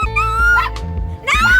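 A street dog lets out a few close, whiny yelps and barks, two short bursts separated by a brief pause, over a steady background hum.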